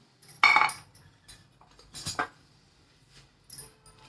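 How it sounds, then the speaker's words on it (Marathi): Dry coconut modak filling stirred in a pan, a spoon scraping and clinking against the metal in a few separate bursts with quiet pauses between. "परत एकदा हलवून घ्यायचं छानपैकी असं"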